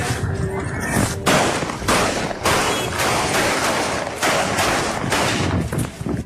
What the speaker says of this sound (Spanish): La víctima estaba sentada en la motocicleta cuando recibió más de 5 tiros.